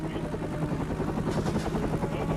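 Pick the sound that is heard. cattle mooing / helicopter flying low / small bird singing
helicopter flying low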